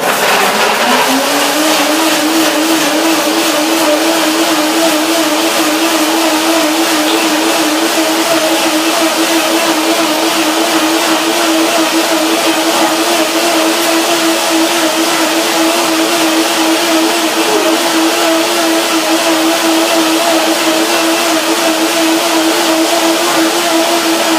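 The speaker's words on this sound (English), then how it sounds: "So a little bit more water to make it runnier. Blender dance." A blender whirs continuously on coconut avocado cream dressing, loud and close, its motor pitch rising as it spins up at the start and then holding a steady high whine for the rest.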